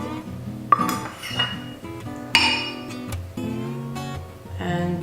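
Measuring cups clink against a bowl while 2 3/4 cups of flour are scooped out for cinnamon apple cake batter, with several bright, close knocks spread over a soft, steady kitchen background.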